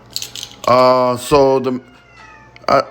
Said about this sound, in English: That's my cat Edward, my mascot.